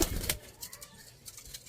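Sialkoti pigeons coo in soft repeated pulses nearby, quiet and low, with a louder rustle at the start.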